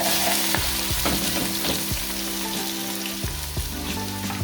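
Cut onions fry in warm oil in a big pan, giving a steady loud sizzle with occasional stirring clatters, close and continuous, with no talking.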